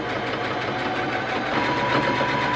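A sewing machine stitches the short edges of bucket hat brim pieces, giving a steady, loud motor whir that runs without a break and swells slightly halfway through.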